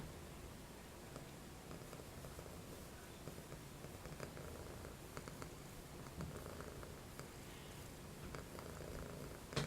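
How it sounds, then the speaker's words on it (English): A pet cat purrs very softly and steadily, a faint low continuous rumble close to the microphone beneath quiet background hiss. "Yeah, he's definitely a purr."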